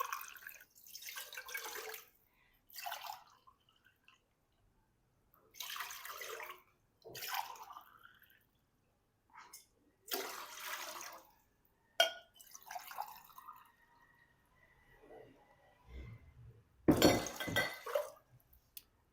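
Water from a steel glass splashes into a cooking pot for fish pulao in several separate pours, each a short gush followed by dripping and a light metallic clink, with quiet gaps between.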